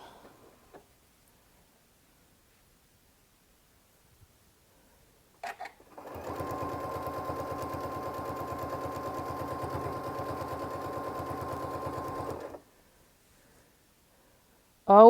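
Sewing machine stitching a zipper on at a quarter inch: after a quiet pause and a couple of clicks, a close, steady humming run lasts about six seconds and then stops abruptly.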